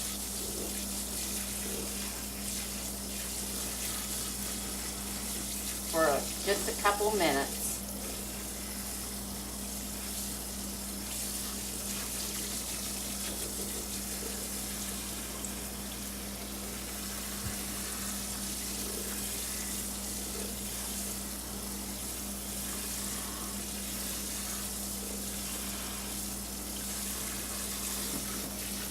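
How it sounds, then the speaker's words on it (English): Cold tap water runs steadily over quinoa in a kitchen strainer, a continuous, even rush of flowing water. A voice speaks briefly early on. "with cold water, I'm just going to run the cold water over it"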